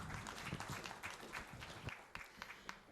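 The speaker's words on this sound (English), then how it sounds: "Can we have a huge round of applause for her?" An audience at an industry summit plenary session applauds, a dense, continuous patter of many clapping hands that fades slightly toward the end, with faint voices underneath.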